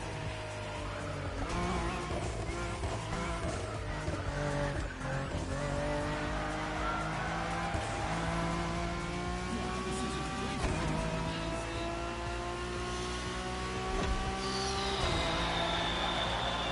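An Acura NSX GT3 race car in The Crew Motorfest snarls through repeated upshifts, its engine note climbing in rising sweeps with occasional tire squeal, loud and close throughout.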